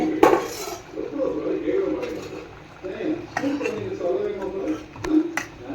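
A metal lid is lifted off a covered cooking pot while vellarikai pachadi is being made, giving a sharp clank and scattered metallic clinks and scrapes against a steady kitchen background.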